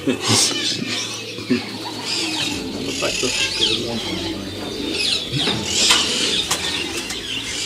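Racing pigeons in a breeder's loft coo and shuffle, with occasional wing flaps close by, under steady background talk from people nearby.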